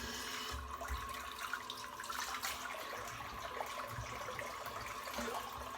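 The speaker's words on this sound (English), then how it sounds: "I'm just filling the bowl back up with some nice hot water" Hot tap water runs steadily into a shaving bowl, a faint continuous splashing stream with no talk.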